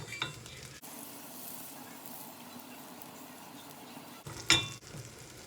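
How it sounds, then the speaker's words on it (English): Brioche buns toast in butter in a pan with a faint, steady sizzle, broken by a couple of brief clinks and scrapes of a utensil against the pan. "put a little bit of butter on the pan to give them a nice golden like finish"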